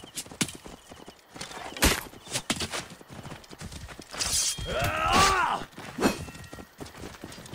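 Horse hooves clip-clop on the ground in the Egyptian setting of the game Assassin's Creed Origins, irregular and fairly close, with a loud whinny rising midway and a few sharp impacts around it.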